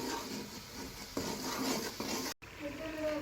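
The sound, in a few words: masala being fried and stirred on high flame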